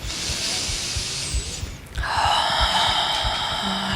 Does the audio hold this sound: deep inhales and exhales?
yes